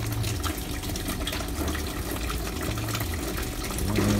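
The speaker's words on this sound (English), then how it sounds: "you should be hearing coolant dropping into the bucket now" Engine coolant drains from a BMW 335i with an N54 engine into a bucket, a steady close splashing and trickling pour of liquid that runs continuously throughout without talk.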